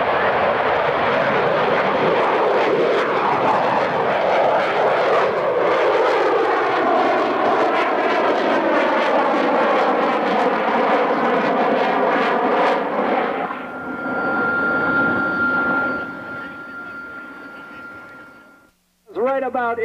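An airshow airplane taking off from the runway directly in front, its engine a loud, sustained roar that swells and then shifts as it climbs away, with an announcer talking over it.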